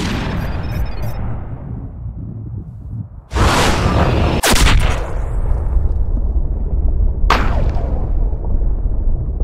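Rifle gunshots while hunting deer in Cabela's Big Game Hunter, with three loud, sharp cracks spaced a few seconds apart over a steady background ambience.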